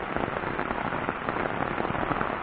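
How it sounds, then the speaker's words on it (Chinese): Heavy rain pours steadily beside a mountain stream at Hengxi in Sanxia during prolonged downpours, a dense, even hiss of drops with no gaps and no voices. "钓竿才刚收好就下大雨"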